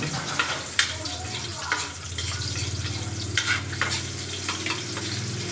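Garlic and onion sautéing in a hot pan, a steady loud sizzle with occasional clinks and scrapes of a utensil stirring, continuous throughout.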